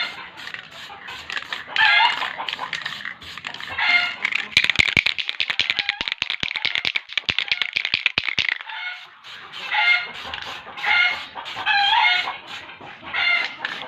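Several chickens cluck and squawk close by in a workshop where a Kawasaki Ninja R is being painted, with a rooster-like call, while a sharp metallic rattling runs through the middle for a few seconds.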